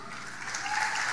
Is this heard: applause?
yes